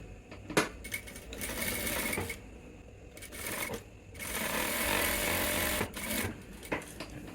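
A sewing machine stitches a cross pocket onto trousers, running in bursts of rapid whirring with short stops and sharp clicks between them, close and clear without talk.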